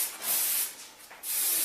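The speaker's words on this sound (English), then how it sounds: "Okay, so then I'm just going to spray it." Bursts of close hairspray from an aerosol can hiss in quick succession, with a short pause between them and no talking.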